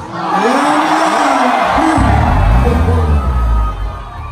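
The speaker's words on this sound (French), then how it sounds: "Et ça, on va applaudir." Concert audience at a live show cheering and whooping over a heavy low rumble, a loud sustained crowd roar lasting the whole stretch.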